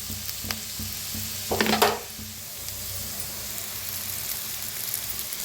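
Cooked rice getting stirred into a hot frying tempering for a simple spiced rice dish: a constant sizzle with scraping spoon strokes, swelling into a louder rustling burst midway before settling back to an even fry.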